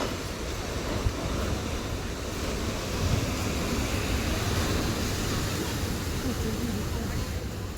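Sea waves at Digha beach, a continuous broad roar of surf mixed with wind buffeting the microphone, steady and fairly loud without distinct breaks.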